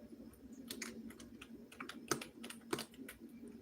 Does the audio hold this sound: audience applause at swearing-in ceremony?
no